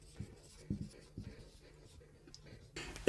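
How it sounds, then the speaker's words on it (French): A pen writing by hand, short scratchy strokes in several quick bursts with pauses between, close and fairly quiet, ending with a brief louder bump. "Je vous les écris."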